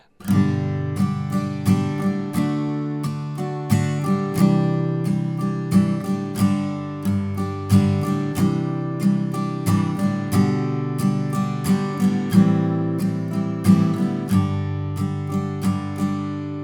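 Steel-string acoustic guitar strumming the verse chords of The First Noel at an easy, steady pace, each strum ringing out clearly with full bright chords and no voice.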